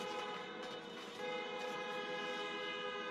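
Steady, sustained car horn blaring continuously from the street outside, loud and unbroken throughout, with no talking.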